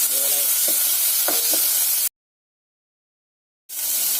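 Two eggs being roasted and stirred in a pan, with a steady close sizzle of frying and a few scraping stirs for about two seconds before the sound cuts to silence, then the sizzle returns.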